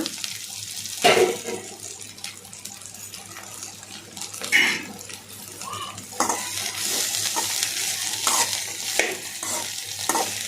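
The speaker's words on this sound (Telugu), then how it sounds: "ఈ బెండకాయల్ని కొంచెం ఫ్రై చేసుకోవాలండి" Okra (bendakaya) frying in oil for a village-style curry, stirred with repeated scraping and clattering strokes over a continuous loud sizzle, with no talking.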